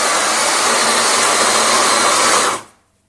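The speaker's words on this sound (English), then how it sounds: "Sorry for the noise. That's grinding lemony coffee." Electric grinder whirring through freshly roasted lemony coffee beans, a loud steady grinding roar that runs alone and cuts off abruptly near the end.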